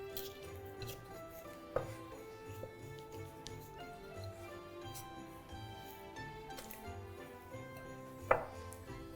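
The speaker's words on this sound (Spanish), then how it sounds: "Nuestra masa previa, que la voy a colocar, la voy a cortar en pedacitos." A knife cuts pre-dough for a chocolate-chip panettone into small pieces on a board. A few soft chopping taps are heard up close in a quiet kitchen.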